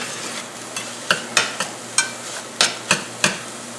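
Spices being stirred into a hot pan for an oil-free vegan tomato lentil pasta, making a run of short scraping, clinking strokes in an uneven rhythm over a low steady hiss, close and moderately loud.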